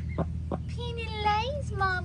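A pet duck calling up close indoors, with a couple of short clucking notes followed by a longer, wavering nasal call and a final squawk.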